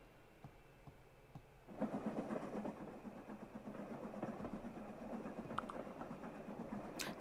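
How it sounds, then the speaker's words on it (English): Train sounds play quietly as ambient background, a low rumbling ride with faint rhythmic clicks that starts soft and swells after a couple of seconds, then holds steady at a gentle, distant level. "Do you want just like general train sounds? Like the chugga chugga chugga chugga."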